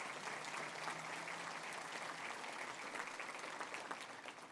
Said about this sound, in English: If we could give them a nice welcoming round of applause.